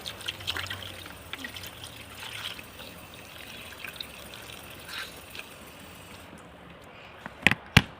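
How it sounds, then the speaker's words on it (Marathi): Makeup blender sponges being rinsed in clean water give a faint, steady trickle and wash of water, with a couple of sharper splashes or taps near the end. "चला आता दुसऱ्या पाण्याने, स्वच्छ पाण्याने इथं धुवून घेते, क्लीन करून घेते त्यांना परत एकदा"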